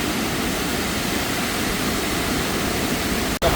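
Water rushing at Madar dam during heavy rain makes a steady, loud, broadband roar that continues without a break, with one brief dip near the end.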